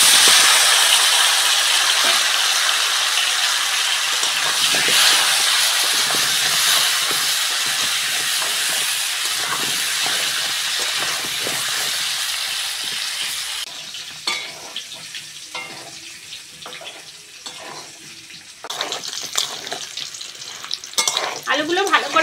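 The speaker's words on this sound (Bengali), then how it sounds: "লবণ হলুদ তেলের মধ্যে কেটে ধুয়ে রাখা আলু দিয়ে দেবো।" Cut, washed potatoes drop into hot mustard oil seasoned with salt and turmeric and fry with a loud steady sizzle and hiss. Later the sizzling turns patchier, broken by stirring scrapes and clinks of a spatula.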